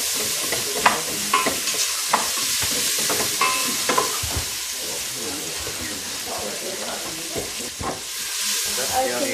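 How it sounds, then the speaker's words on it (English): Onions and spices fry in a pan for a vegetable dish, a steady broadband sizzle with occasional stirring clatter and scrapes, close and moderately loud, running without pause. "Now we're going to give those onions and spices a few minutes to do their job."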